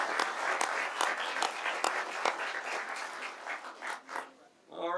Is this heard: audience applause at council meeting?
yes